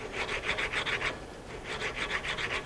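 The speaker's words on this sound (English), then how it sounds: "lap that valve in there to make sure we got a good fit" A steam whistle valve is lapped into its seat with coarse lapping compound, turned by a small screwdriver: quick rhythmic gritty rasping strokes in two bursts separated by a short pause, close and fairly quiet.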